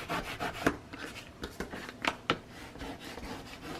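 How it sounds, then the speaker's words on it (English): Burnishing a square ink station with quick back-and-forth rubbing makes a series of scratchy, papery strokes at close range, uneven in rhythm, with a few sharper scrapes and no talk. "I'm going to flip it over really quick and burnish."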